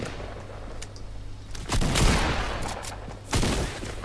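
Gunfire in the video game Fortnite: a rapid burst of shots around two seconds and another near three and a half, loud and close over a low steady background hum.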